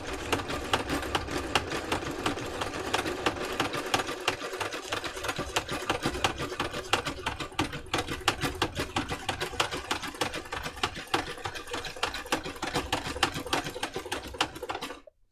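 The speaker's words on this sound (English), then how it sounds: "when you machine embroider, you've got to remove what they call the feed dogs" A domestic sewing machine stitches free-motion embroidery with the feed dogs removed, a fast, continuous mechanical whirring and rapid needle clatter running close and loud until it stops at the end.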